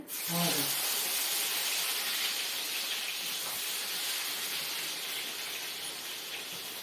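Jackfruit chips fry in hot oil with a steady, loud hiss and sizzle, continuous throughout with a brief sharp burst at the start, no talking.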